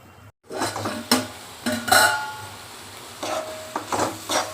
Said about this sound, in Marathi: भाजी कशी झाली, शिजत आली जवळजवळ